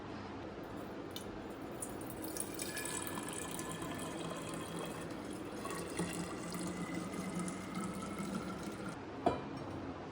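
Homemade detox water is poured into a storage bottle, making a steady, quiet trickle and gurgle of liquid filling the bottle with a few faint clinks, close by and without talk.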